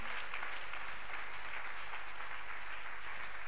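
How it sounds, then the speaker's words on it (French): A church congregation claps their hands together in a steady, dense wash of applause that continues without break, moderately distant and unaccompanied by speech. "Come on, clap your hand for Jesus."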